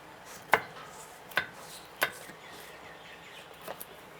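Green chilies are coarsely chopped for an Indian mint chutney, giving three sharp, close knife knocks spaced under a second apart, followed by a couple of fainter taps.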